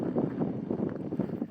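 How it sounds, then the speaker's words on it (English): Strong wind blowing by the beach, a close rumbling buffet of gusts across the microphone, steady and alone without speech. "You could probably tell it's really windy here."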